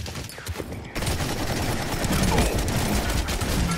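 The Kraken gun fires in the Paladins video game as Dredge, a steady stream of rapid shots and impacts that thickens after a brief lull, loud and continuous to the end.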